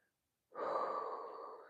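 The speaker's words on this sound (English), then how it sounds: "And breathe." A single long, close exhale during a kettlebell mobility workout, starting after a brief silence and sustained as a steady breathy rush for over a second.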